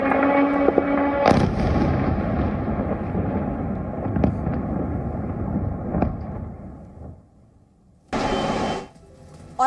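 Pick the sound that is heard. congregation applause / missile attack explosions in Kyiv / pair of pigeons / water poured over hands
missile attack explosions in Kyiv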